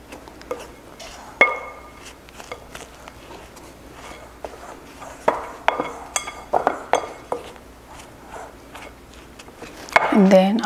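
Cookie dough ingredients stirred in a bowl, with repeated clinks of a utensil against the dish, scattered scrapes and taps, close by, ending in a louder burst of rattling.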